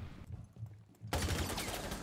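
Burst of rapid gunfire in the Rainbow Six Siege shooter during an esports match, a dense loud volley that cuts in abruptly after a quieter stretch.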